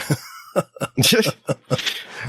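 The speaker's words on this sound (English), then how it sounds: "I still got a cough." Several short, harsh coughs in bursts, close to the microphone, with a longer raspy fit in the middle and a few separate hacks after.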